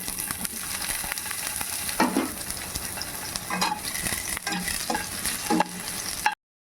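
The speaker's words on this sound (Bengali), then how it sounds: "ওই তেলের মধ্যে আমি 3টে আলু নিয়েছি ছোট ছোট, ওগুলোকে ফ্রাই করছি।" Three small potatoes frying in oil in a pan, giving a steady close sizzle broken by several brief stirring scrapes, with no talking.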